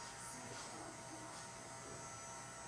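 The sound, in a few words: heat gun melting encaustic wax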